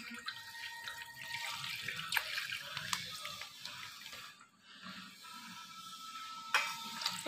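Milk is poured from a packet into a pan while making coffee, giving a steady, faint trickling, splashing stream with a few small clinks.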